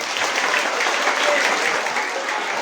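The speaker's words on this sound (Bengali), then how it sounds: "কি হলো, হাততালি কই?" Audience clapping after a stage play on widow remarriage, a steady dense wash of applause held evenly across the whole stretch with no voices standing out.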